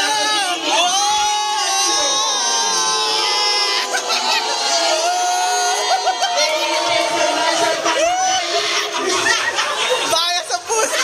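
Live crowd at a Tekken 7 tournament, loud cheering, shouting and chatter from many people, rising and falling throughout with excited commentary over the top.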